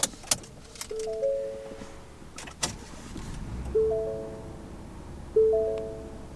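A key is fumbled into the ignition of a 2025 Ford Ranger XLT, with a few sharp metallic clicks and jingles, followed by three repeated multi-tone electronic chimes from the cabin.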